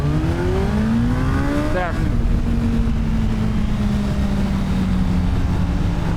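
A Suzuki Hayabusa Gen 3 motorcycle launches hard, its engine climbing in rising pitch, briefly dropping at a gear change, then pulling on steadily at high revs, loud and continuous, with a brief spoken word.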